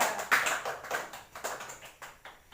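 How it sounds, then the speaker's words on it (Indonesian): A small audience claps for a presenter after a microteaching presentation on environmental pollution, with sparse, uneven hand claps in short bursts, fairly faint in a quiet room. "Berikan tepuk tangan kepada Mbak Widya"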